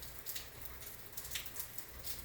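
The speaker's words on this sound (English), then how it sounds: "Shit, the rain's picking up." Rain falling outdoors, quiet and pattering with scattered drop hits over a soft steady hiss, fairly faint and close.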